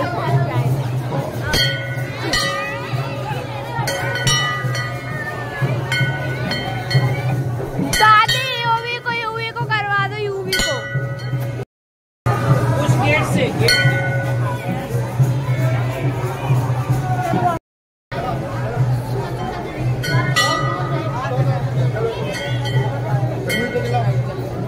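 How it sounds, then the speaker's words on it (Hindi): Temple bells clang and ring repeatedly amid a dense, noisy crowd at the Ram Mandir on its opening day, with people talking and chattering throughout and a steady low hum underneath. "घंटा बज"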